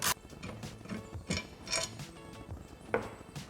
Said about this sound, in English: Remove these screws holding the rotor in.